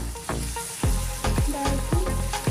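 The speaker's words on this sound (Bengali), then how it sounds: "তেলে ভেজে নিচ্ছি" Tomato and ginger-garlic paste fry in hot oil, giving a strong, close sizzle broken by repeated stirring strokes and spatters roughly every half second, with no voices.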